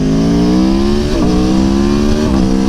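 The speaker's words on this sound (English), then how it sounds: "This thing is awesome, man. I love this bike. Sounds like a MotoGP bike." A video game motorcycle engine screams at steady high revs like a MotoGP bike, close and loud, with two quick dips where it shifts gear before climbing again.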